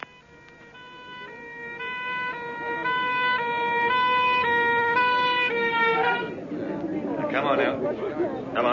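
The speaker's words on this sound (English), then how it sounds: "Well, you've all seen an ambulance before, haven't you?" An ambulance siren wails in a steady, repeating two-tone pattern, loud and close, before crowd noise and chatter swell up over it as it ends.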